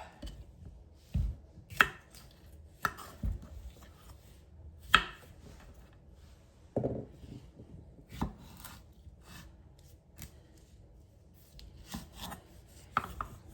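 A knife cuts through medium-sized cucumbers on a board, trimming the ends and halving them, giving scattered crisp chops and thuds at irregular intervals, close and fairly quiet, with no talking.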